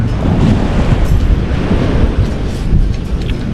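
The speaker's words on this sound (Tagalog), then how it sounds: "Dito tayo sa tabing dagat." Sea waves wash onto a sandy shore at the seaside, a loud, constant low rumbling surf blended with wind buffeting, with no voices.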